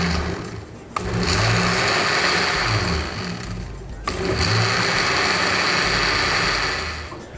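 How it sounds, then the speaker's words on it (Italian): A kitchen blender pulses a creamy sauce of dried porcini mushrooms, a loud steady whirring motor run in two long bursts with a brief stop between them. "facciamo partire il frullatore a intermittenza, facciamo andare un pochino, poi spegniamo"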